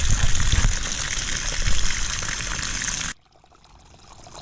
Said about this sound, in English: And this would be the overflow pipe from my main watering tank.